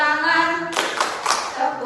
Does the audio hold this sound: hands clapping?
yes